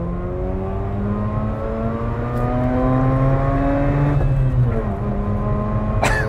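A 2011 Mazda RX-8 rotary engine pulls up toward 9,000 rpm from inside the car, its droning pitch rising steadily and loudly before easing off, with a brief mechanical click near the end.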